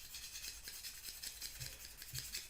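A medium sanding stick rubbing over glued plastic parts of a 1/48 scale F-14 model kit, a quick rhythmic rasping scrape repeating several times, close and quiet.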